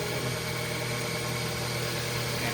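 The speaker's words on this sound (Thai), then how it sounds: "หลังจากล้าง มาแล้วเนี่ยเครื่องยนต์เดินเรียบ" A first-generation Mazda 3 BK 1.6 engine idles right after injector cleaning, a steady, even mechanical hum with a faint tick, heard up close with no talk.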